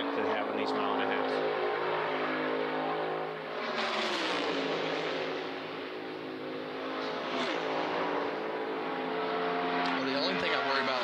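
NASCAR Cup Series race cars during final-round qualifying at Texas Motor Speedway, a 1.5-mile oval, roar continuously with engine pitch sweeping as cars pass, loud and close, under steady commentary.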